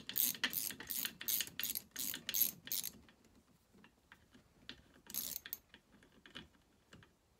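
Ratchet undoing the cylinder bolts on a McCulloch Super Pro 80 chainsaw block, a run of quick rhythmic clicking bursts, then scattered lighter ticks and a brief second burst, close and fairly quiet.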